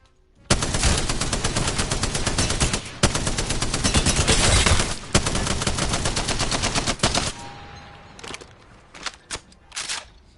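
Weapons firing in Apex Legends: loud, sustained automatic bursts with brief pauses, then scattered single shots fading toward the end.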